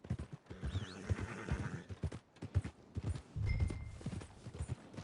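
A horse's hooves clip-clop in the Red Dead Redemption 2 video game, with a neigh mixed in among sparse ambient sounds.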